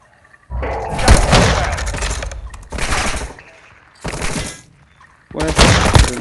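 Gunfire in the mobile shooter Warzone Mobile comes in loud, dense bursts separated by short pauses, rapid crackling shots with a shattering edge, four volleys in about six seconds.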